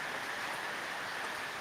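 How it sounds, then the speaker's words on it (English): Rain falls outdoors as a steady, even hiss, with no voices or other distinct sounds, only a short unbroken wash of drops. "It's raining."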